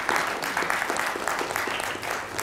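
A live audience at an evening talk claps together, dense and even across the whole stretch, moderately loud and heard from within the room.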